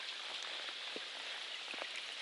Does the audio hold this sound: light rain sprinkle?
yes